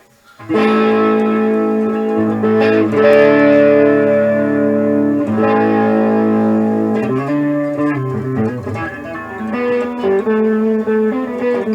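A clean electric guitar, a Jackson, plays sustained chords and single notes with a shimmering, wavering chorus effect, loud and alone without any voices.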